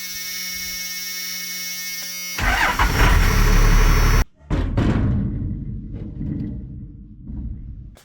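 A neglected old Jeep truck engine cranks with a loud starter whir, then catches and runs roughly, idling close by with uneven knocks and sputters.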